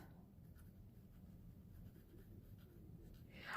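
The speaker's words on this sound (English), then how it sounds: "these definitely make a lot of scratchy noises when you're trying to use them on the paper" Arteza fine point pens scratch across paper in a steady, faint, close scritching of continuous strokes, with a louder rustle at the very end.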